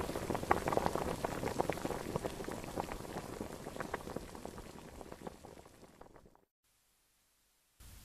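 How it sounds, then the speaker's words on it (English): Skimmed allanblackia oil boils hard, a dense close bubbling and popping full of small bursts that fades over several seconds and then drops into silence before a brief return. "the skimmed oil is brought back to the boil"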